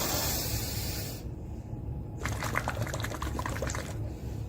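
Air blown out through a tube into water during a breathing exercise makes a steady, fairly loud bubbling rush that pauses briefly, then resumes.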